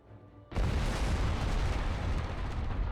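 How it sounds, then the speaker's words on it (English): A single massive explosion in the Guild Wars video game bursts in after a brief quiet moment, followed by a loud, sustained roaring rumble and debris noise. "Oh, that was a big explosion."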